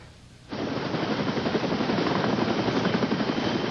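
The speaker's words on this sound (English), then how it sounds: "20-year-old Matt Enriquez was taken by Care Flight helicopter to a nearby hospital." A medical rescue helicopter's rotor thumps in a rapid, steady chop at a brush fire, loud and close, starting abruptly and continuing without pause.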